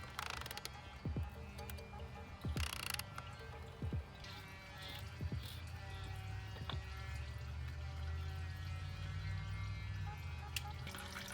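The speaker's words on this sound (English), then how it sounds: "Since the oil filter is now off, there's going to be a lot more oil draining at the bottom as well." Engine oil pouring from the drain of a VW MK6 GTI oil pan during an oil change, a steady liquid trickle and splash with scattered drips, close and moderately quiet, with a few faint knocks and no talking.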